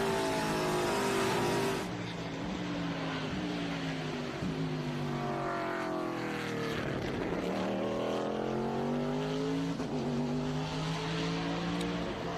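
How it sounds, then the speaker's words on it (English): A Trans-Am class race car with a 150 brake-horsepower American V8 roars past on a road course, its engine pitch sweeping down and back up through shifts and a doppler pass, loud and close with no talk. "Beautiful sound of that TA car."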